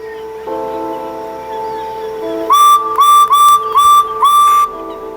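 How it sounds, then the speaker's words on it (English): Light-up Thomas the Tank Engine toy train sounding its whistle in a series of five short, loud, bright electronic toots after a lower buzzing tone, close and with no talking. "He blows his whistle."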